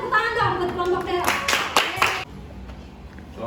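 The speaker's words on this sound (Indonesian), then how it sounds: "tepuk tangan dong buat kelompok Daryl." Classroom students clapping for a presenting group, a few brisk claps building then stopping abruptly, after which a quiet room remains; a teacher's voice is heard before the clapping.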